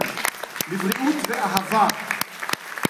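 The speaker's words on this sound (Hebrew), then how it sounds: "מחיאות כפיים" Audience applause at a Hebrew tribute to a singer, steady clapping running under a voice speaking throughout.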